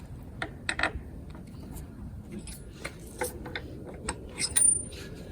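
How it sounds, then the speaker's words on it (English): A torque wrench tightens post bracket bolts on house framing, with a series of sharp ratcheting clicks in short irregular bursts. It is close and fairly quiet, with no speech. "Now we'll have to torque these down."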